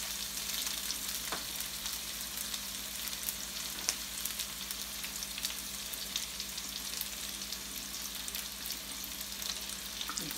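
Onions frying in a pan alongside bacon, a continuous soft sizzle and crackle with occasional sharper pops and light stirring, heard alone without talk.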